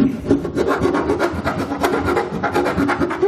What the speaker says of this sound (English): grab a hand file, kind of work around the edges and smooth everything out.